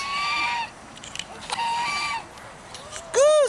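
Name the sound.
goose honking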